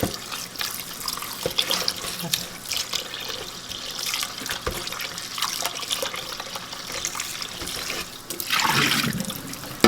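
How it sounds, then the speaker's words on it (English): Cold water runs from a tap and splashes while homemade butter is rinsed and kneaded by hand, with a steady rush of flowing water and a louder gush near the end. "this is cold water, and we just keep kneading it, and this we just throw out"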